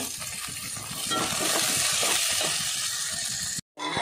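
Egg and vegetables sizzling in a hot pan while being stirred for egg noodles, a steady close frying hiss with scraping stir sounds, ending in a brief cut to silence.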